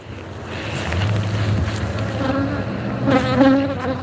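A swarm of honey bees buzzes close around a beekeeper in a backyard, loud, dense and continuous, with individual bees whining past the microphone and gusts of wind noise.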